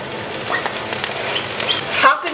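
Broccoli frying in a pan, a soft steady sizzle with small crackles and stirring clatter running throughout the short stretch.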